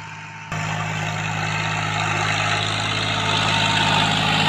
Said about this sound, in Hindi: बहुत मज़े में चला रहा है ट्रैक्टर इसको।